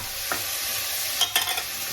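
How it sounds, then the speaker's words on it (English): Vegetables, including carrots, sizzle in a hot pan with a steady, close hiss, broken by a few clinks and scrapes of stirring, while making a crab and shrimp bisque. "A ton of sizzle."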